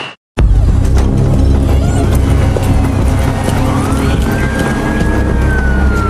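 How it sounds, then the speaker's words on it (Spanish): Loud ambulance siren wailing continuously in a TV commercial, with a steady pitch sweep over traffic rumble after a brief silent start. "Ya llegó la ambulancia."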